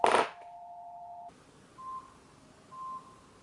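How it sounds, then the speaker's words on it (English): House phone at home giving a short electronic tone after a brief click, then two faint, evenly spaced beeps, quiet and alone. "Oh, the house phone!"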